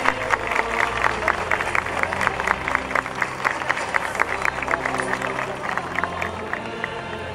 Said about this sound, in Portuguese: uma salva de palmas à Nossa Senhora Auxiliadora